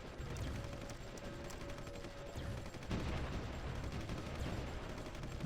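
Faint, distant artillery bombardment in a strategy video game: a continuous rumbling barrage of booms and crackling shell impacts that swells slightly midway and keeps going without pause.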